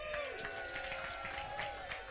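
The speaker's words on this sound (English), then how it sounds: "Everybody give a cheer for my mom." A comedy show audience cheers and claps in a sustained, distant wash of crowd noise, steady throughout with no clear talk on top.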